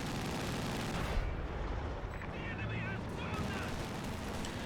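Artillery barrage from a leFH 18 howitzer in the World War II strategy game Company of Heroes: dense, continuous rumbling blasts and crackling impacts fill the whole stretch at steady loudness, with battlefield noise layered throughout.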